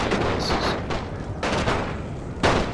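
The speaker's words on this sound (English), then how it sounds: "Artillery, you might as well stop firing and stuff." Artillery fire in a World War I battle game played as Austria-Hungary: several heavy, fairly distant booms and thumps spaced across the moment, each rolling out under a mix of battlefield noise.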